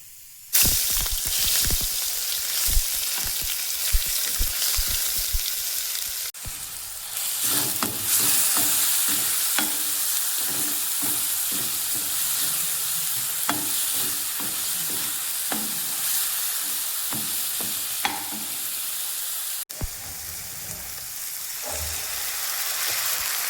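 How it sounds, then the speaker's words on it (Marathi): Green chili, garlic and ginger paste hits hot mustard oil in a home kitchen, a sharp burst of sizzling that settles into a steady loud hiss, with frequent spoon scrapes and clinks of stirring throughout. "आता तेल झालं आहे गरम हिरवी मिरची लसण आणि अद्रकचा पेस्ट टाकून घेते"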